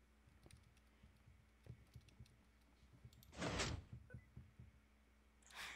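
Faint computer keyboard keys click in a loose, uneven run of taps, broken by a louder whooshing slide in the middle and another near the end.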